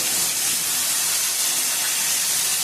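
Squeezed, soaked soybean chunks hit a hot pan with a loud, steady hiss of sizzling oil that runs unbroken throughout.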